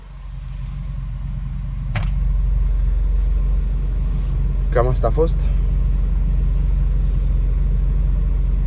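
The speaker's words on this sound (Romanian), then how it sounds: "Este un bas foarte puternic și este un top de bas foarte puternic pentru această mașină." Deep, heavy bass from an Alpine SWT-12S4 12-inch subwoofer fills a car cabin, a loud continuous low rumble that swells after the first two seconds and holds steady, with a brief voice speaking partway through.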